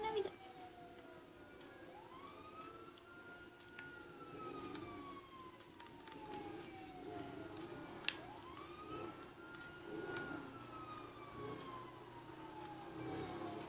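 Wailing police sirens in GTA 5 sweep up and down in long repeated cycles, moderately loud over a steady background rumble, with a person talking faintly underneath.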